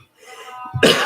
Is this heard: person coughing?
yes